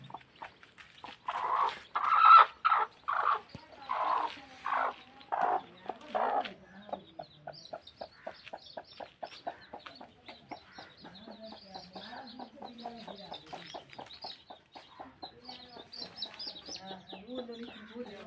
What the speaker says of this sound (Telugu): చూడండి ఫ్రెండ్స్ ఇదే కోడి